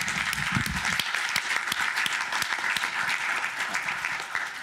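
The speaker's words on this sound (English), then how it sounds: "I'd like you all to join me in giving our panelists a round of applause for being here today." Audience applause for the panelists at a law symposium, a dense, steady round of many hands clapping that carries evenly for several seconds, with no talk over it.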